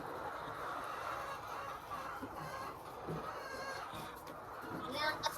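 Chickens clucking in a laying-hen poultry farm, a steady busy chorus of hens heard throughout, with a person talking over the flock.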